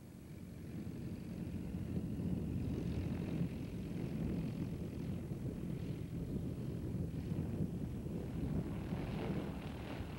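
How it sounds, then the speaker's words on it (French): A light propeller aircraft taking off at an air rally makes a steady, rushing engine drone with wind buffeting the microphone, continuous and fairly close throughout. "Nous décollons en tête du trio afin de bénéficier du premier niveau de vol disponible"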